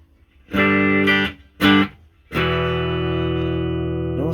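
Electric guitar with a single pickup, a 1964 Epiphone Pacemaker amp and its reverb pedal switched off, plays two short loud chords and then one long sustained ringing chord, clean with a little drive, with no voices.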